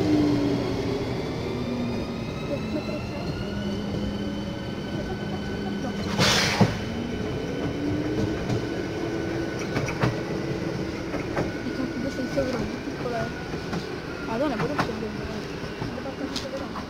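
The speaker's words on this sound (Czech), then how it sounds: "na koleji číslo 2 vlevo nastupujte do motorového osobního vlaku" A motor passenger train stands and moves at the railway station in Jaroměř, its diesel engine droning steadily with rail clatter, a brief loud hiss and squeals, while a station announcement plays over the platform.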